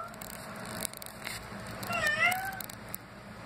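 A domestic cat gives a couple of short, faint meows with rising and falling pitch around the middle, over quiet room noise, with no clear talk.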